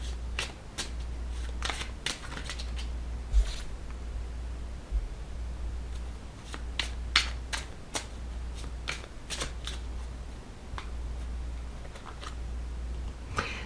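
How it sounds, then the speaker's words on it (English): Oracle cards are shuffled and pulled from the deck: close, crisp riffling and flicking bursts repeat throughout over a low steady hum. "And now I'm going to pull some cards from the love bomb kindness cards."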